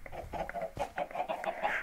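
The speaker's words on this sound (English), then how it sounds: "So anyway, so we do have a few chickens here." Minecraft chickens cluck in short repeated clucks, close and fairly clear, over a faint background.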